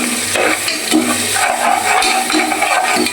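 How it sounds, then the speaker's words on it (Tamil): Ground spice paste frying and being stirred in a hot pan for Hyderabad biryani, a steady close sizzle with scraping spoon strokes repeating throughout. "நல்லா கிளறி வச்சுக்கலாம்"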